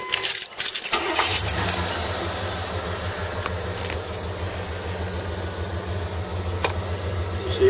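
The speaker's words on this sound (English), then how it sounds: "And let's fire it up." A 1986 Chevrolet Monte Carlo SS starts up outdoors: a brief jangle of keys, a short crank, then the V8 catches and settles into a steady, rumbling idle close by.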